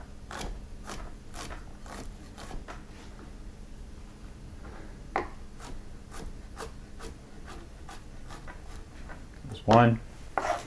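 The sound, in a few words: knife slicing garlic cloves on a cutting board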